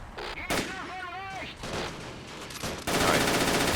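Autocannons in the World War II strategy game Men of War: Assault Squad 2 pound a French farm field with heavy, rapid fire that swells loud at the end, while a voice briefly talks over the battle noise.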